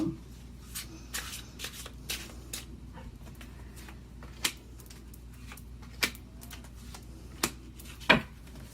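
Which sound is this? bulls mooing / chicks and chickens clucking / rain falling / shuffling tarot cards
shuffling tarot cards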